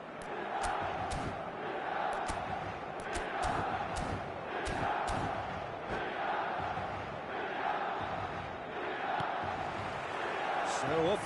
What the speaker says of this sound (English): The stadium is full of noise and energy.